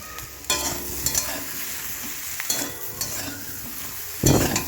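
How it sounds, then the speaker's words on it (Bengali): Loud sizzling of vegetable stalks frying in salted oil for shukto, with bursts of scraping as a utensil stirs the pan several times. "এইগুলোকে আমি লবণ দিয়ে ভালো করে তেলের মধ্যে ভেজে তুলে নেব"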